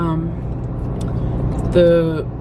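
A car drives along a suburban road near Leppington with a steady low road and engine rumble inside the cabin, while people talk briefly over it.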